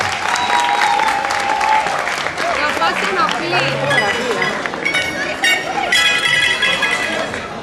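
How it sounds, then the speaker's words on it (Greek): A crowd claps loudly and steadily at the 2009 Limassol Carnival, mixed with cheering and talking voices throughout. "Θέλουμε χειροκρότημα για να ξεκινήσουμε."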